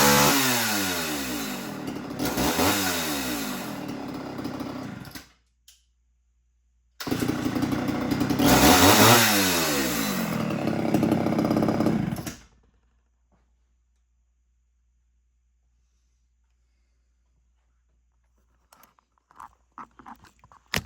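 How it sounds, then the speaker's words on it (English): A 1979 Homelite Super XL chainsaw runs loud and close, cutting through two long bursts of several seconds each with revving swells and a silent pause between them. Faint scattered noises follow after the saw stops. "So, it's a very good little saw, but you do have to take your time and let it do its job by cutting"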